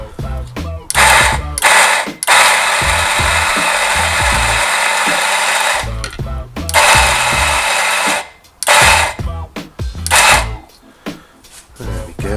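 A Macap M5D on-demand coffee grinder grinds espresso beans with a loud, close motorized whir, running in several long bursts separated by brief stops and short restarts.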